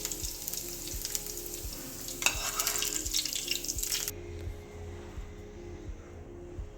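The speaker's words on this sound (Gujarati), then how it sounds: "હવે આપણે એના પર વઘાર કરી દઈએ" A hot tempering of oil is poured over khandvi topped with red chilli and coriander, bursting into a bright, close sizzle that crackles for several seconds, then drops off abruptly into a quieter hiss.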